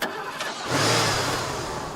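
A car engine cranks and catches right after a battery swap, a brief starter whir followed by the engine rumbling up into a steady, fairly loud idle close by.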